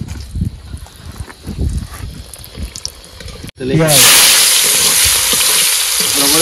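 Quiet kitchen clatter, then five dried chilies hit hot oil with a sudden loud, steady sizzle and crackle that continues to the end.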